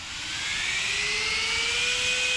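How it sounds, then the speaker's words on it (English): Game Changer Cyclone cooling fan mounted on an Arrma Felony RC car, spinning up with a steady, loud airy whine whose pitch rises slowly over a couple of seconds, close and alone. "I'm gonna plug up this fan real quick so you guys can see just how powerful that Game Changer Cyclone fan is"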